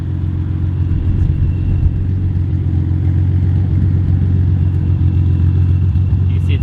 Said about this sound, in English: I finally got it to idle, so here's the idle video.